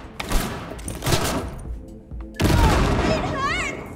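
Grenade blast and gunfire in the Cyberpunk 2077 video game: a sharp explosive burst erupts midway, followed by dense rattling gunfire and rising game effects, with player chatter in places.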